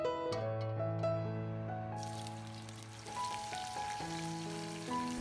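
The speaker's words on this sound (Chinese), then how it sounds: "我们先来煎茄子" Eggplant pan-fries in hot oil, a steady quiet sizzling hiss that starts partway through and runs beneath louder background music.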